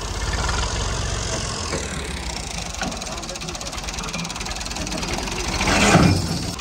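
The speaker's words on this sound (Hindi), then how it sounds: "ट्रैक्टर वाले भाई मशीन लेके आ चुके हैं हमारे खेत में" A diesel tractor engine idles in a farm field with a steady low knocking chug, while voices and clattering sounds from nearby harvesting work break in occasionally.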